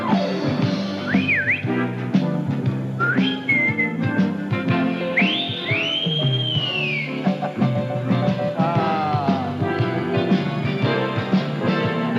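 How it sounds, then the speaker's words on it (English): A person whistles a bright, melodic tune with sliding, swooping notes, clear and close over faint background accompaniment. "If I want him, I just whistle and my prince will appear."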